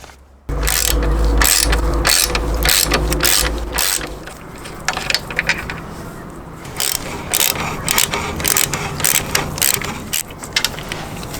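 Ratchet wrench clicking rapidly while loosening size 14 bolts on a Suzuki V-Strom 800 center stand, loud and close, in bursts of sharp pawl clicks with brief pauses between turns.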